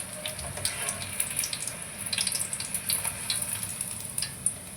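Spring rolls frying in shallow oil on a home tawa, a steady bright sizzle with scattered crackles and pops, close and fairly even.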